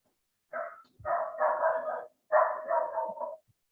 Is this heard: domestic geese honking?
no